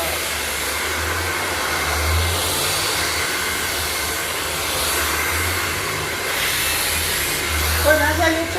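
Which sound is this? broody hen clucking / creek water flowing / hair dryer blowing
hair dryer blowing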